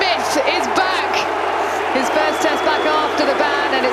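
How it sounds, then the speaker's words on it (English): A cricket crowd at an English Test match reacting as Steve Smith, in his first Test back after his ban, reaches his first-innings century. A dense, steady wash of crowd noise with cheering and applause fills the scene, carrying through evenly without letting up. "This is the reaction of the crowd when Steve Smith got his century in the first innings."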